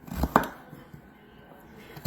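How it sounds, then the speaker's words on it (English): A knife cuts rutabaga into small pieces on a board, giving two quick close chops near the start and then near silence. "And I do cut mine small because they cook a lot quicker."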